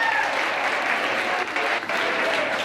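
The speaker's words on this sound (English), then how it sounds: "can we give our VP here a big round of applause for helping me out?" A large audience applauds a VP at a talk on children's developing brains, dense steady clapping filling the room at full volume throughout, with a faint murmur of voices underneath.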